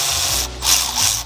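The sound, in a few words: ratchet wrench with extension loosening a brake bolt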